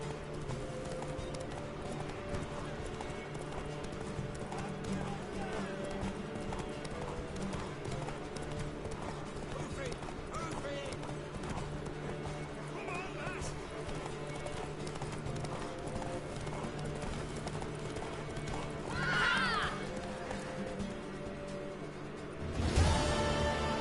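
A horse gallops in The Witcher 3: Wild Hunt during a race, steady rhythmic hoofbeats over game music and ambience, with a brief louder burst near the end.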